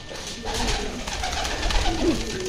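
Soft, low cooing from a pigeon sitting on a nest with eggs nearby, repeated a few times against a steady background hum.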